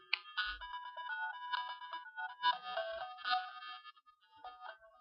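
A bright, chirpy chiptune melody from the Bruce Lee game on an 8-bit computer, with quick bleepy notes and a light bass line, playing on its own at moderate volume.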